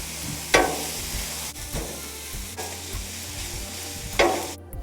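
Onion sizzling in a pan with sausage for migas breakfast tacos, a continuous close frying hiss broken by several scraping spatula strokes, with no one talking.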